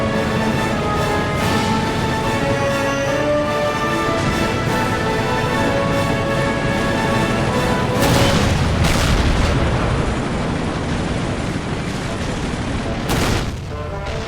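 Artillery fire in a toy war battle scene, heavy booms and explosions rolling one after another over a dense, continuous din, with especially big blasts around the middle and near the end.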